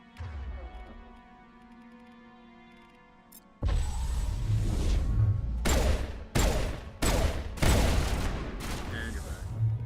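Pistol fire in Mass Effect Legendary Edition, a burst of loud, rapid shots in several clustered volleys after a quieter stretch of game ambience, with some talk mixed in.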